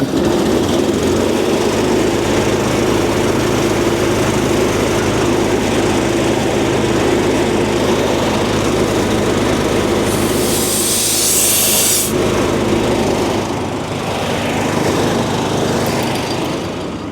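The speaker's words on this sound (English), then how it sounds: "Start the compressor here." An air compressor runs continuously and loudly at close range, a steady throbbing mechanical drone with a brief burst of hissing air partway through.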